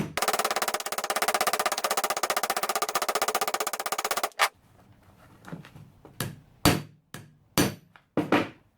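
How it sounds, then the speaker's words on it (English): A hammer sets a rivet on a holster strap, first in a fast, even run of light taps for several seconds, then a few separate, sharper strikes spaced apart, close and clear. "You don't want to hit it too hard, you don't want to go too fast, just take your time."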